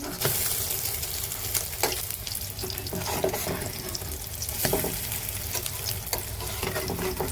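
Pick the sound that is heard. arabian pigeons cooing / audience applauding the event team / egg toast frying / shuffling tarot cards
egg toast frying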